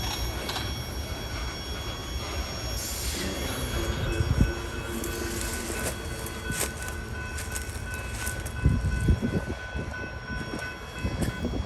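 A westbound train rolls past a level crossing with a steady rumble of wheels and rail noise, occasional squeals and clanks rising and falling, fairly near and continuous with no talk.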